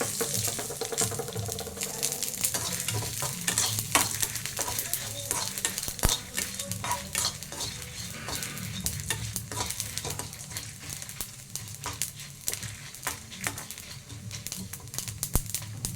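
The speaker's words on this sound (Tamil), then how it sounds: "கொஞ்சமாக எண்ணெய் போட்டு கூட வறுத்துக்கலாம்." Curry ingredients for chicken curry fry in a little oil in a pan. A constant close sizzle runs under repeated scraping strokes as they are stirred.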